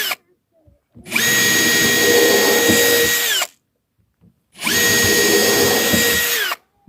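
A power drill bores pilot holes in two long bursts of about two and a half seconds each, whining loudly and steadily, with short quiet gaps before, between and after.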